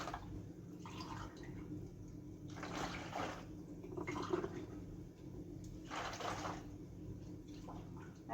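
Water running and splashing into a container for mixing chapati dough, a continuous pouring stream in several surges over about eight seconds, close by and alone.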